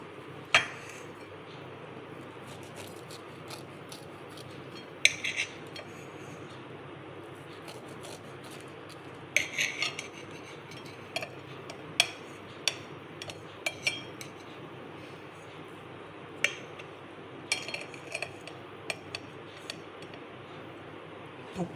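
A knife cuts through a smooth eggless chocolate cake on a plate, with soft scattered clinks and taps of metal against the dish over a quiet background.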